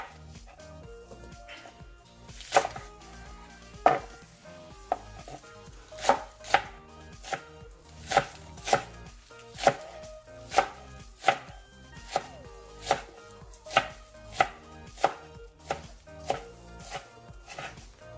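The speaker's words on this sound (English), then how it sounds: "I'm gonna slice green onions." A knife slicing green onions on a cutting board for Korean stir-fried spicy pork, with crisp, evenly spaced chopping thuds repeating about once a second, close and clear.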